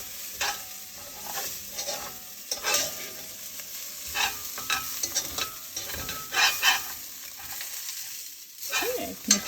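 Vermicelli being stirred with sprouted beans and peanuts in a pan: irregular scraping and tossing strokes over a faint sizzle, close by and fairly quiet.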